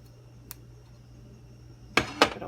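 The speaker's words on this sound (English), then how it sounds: "So I'm going to go ahead and take some scissors and trim the wick." Scissors trim the wick of a soup can candle in two quick, close metallic snips after a faint tick, in an otherwise quiet room.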